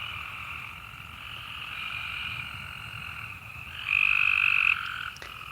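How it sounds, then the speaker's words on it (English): Frogs croak in a dense, continuous chorus after a night of heavy rain, steady and fairly loud, with one nearby frog swelling louder for about a second before the chorus settles back. "the frogs are very enthusiastic about all the water we received last night"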